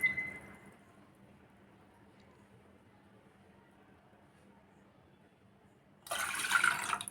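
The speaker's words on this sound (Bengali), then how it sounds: "তার মধ্যে দিয়ে দিচ্ছি 2 কাপ পানি।" Two cups of water poured into a cooking pot, a short splashing gush at the end after a long quiet stretch with faint background hum.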